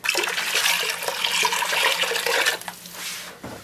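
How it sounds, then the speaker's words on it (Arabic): Water poured steadily into a cooking pot for couscous seasoned with garlic, harissa and red pepper, a continuous close splashing gush that tapers off near the end. "يلا نصب لها الماء"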